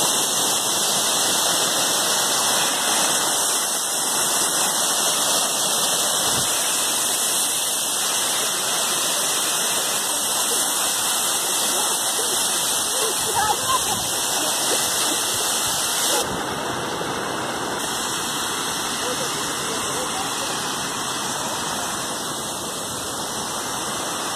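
Cachoeira de Cocais waterfall roars steadily and loud as a constant broadband rush of falling water, unbroken for the whole stretch with no voices over it.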